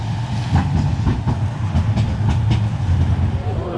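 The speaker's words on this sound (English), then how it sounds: "This tram is going to Manchester City right now." A Manchester tram running on its tracks near the Etihad Campus, a steady loud rumble with rhythmic clicking from the rails throughout, with faint talk in the background.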